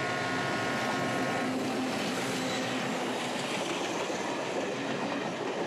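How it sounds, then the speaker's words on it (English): A loud, continuous rumble and rattle of a passenger train rolling by close up, with steady wheel clatter and a brief high squeal early on. "We've got a passenger train behind us that's running late, which typically it does."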